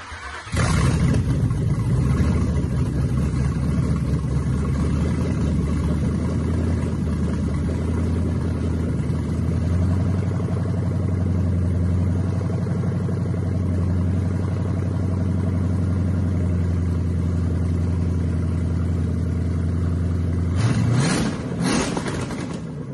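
Freshly built turbocharged LS V8 fires up and settles into a loud, steady rumbling idle that holds for about twenty seconds, ending with a brief burst of higher revving.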